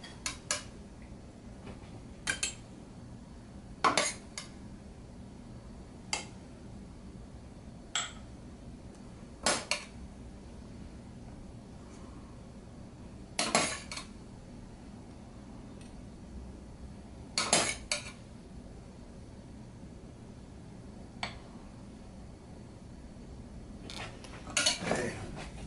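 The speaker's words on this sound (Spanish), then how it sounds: "Voy a llenar dos pocillos con el arroz." Rice is spooned into bowls in a kitchen, with sharp, scattered clinks of utensils against dishes every few seconds over a quiet background.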